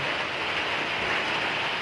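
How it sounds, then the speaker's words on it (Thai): Rain falls steadily on a rural Thai farmhouse garden, a dense, even hiss with soft patter on surfaces, continuous and unbroken, with no voices. "นอนฟังเสียงฝนดังปอกไปปอกไปนี่ก็สุดยอด"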